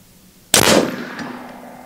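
A single sharp airgun shot from an AEA Challenger Elite cracks nearby, followed by a ringing metallic clang from the struck target that slowly decays.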